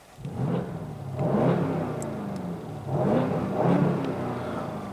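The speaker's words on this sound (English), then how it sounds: "So guys, we're gonna be doing some revs." A 2019 BMW M850i engine revs up twice, rising and falling in two swelling surges over a steady rumbling idle, loud and close.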